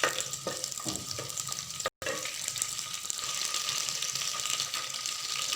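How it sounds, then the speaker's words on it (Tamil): Green chillies sautéing in a clay pot, with a soft continuous sizzle and occasional stirring scrapes, close and moderately quiet, with a brief dropout near two seconds. "நல்லா வதங்கட்டும்."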